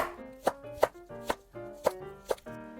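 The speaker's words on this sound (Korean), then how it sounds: "마늘도 잘게 다져주세요" Garlic is minced with a knife on a cutting board: about six crisp, evenly spaced chops, close and clear, with no talking.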